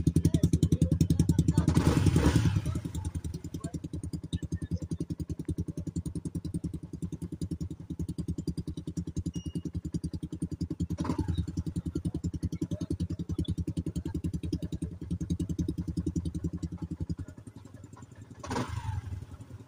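Motorcycle engine with an open pipe exhaust, a loud raspy rumble, revving hard at the start then settling into a steady, throbbing idle, while people talk nearby.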